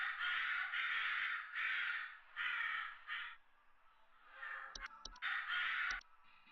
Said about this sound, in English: Did you hear those birds?